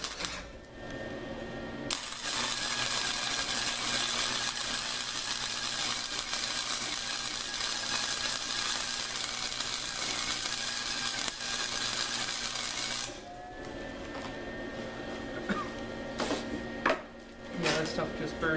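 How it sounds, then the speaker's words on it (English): Wire-feed welding on steel stake holders for a trailer produces a long, even, buzzing crackle lasting about eleven seconds, close and steady, then stops, leaving quieter handling clicks and knocks. "I'm going to weld this in the easiest position possible"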